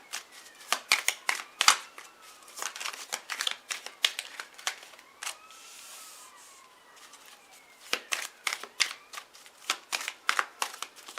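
Playing cards riffled and dealt in a run of quick, crisp flicks and snaps, close and fairly quiet, with a short pause midway before the flicking resumes.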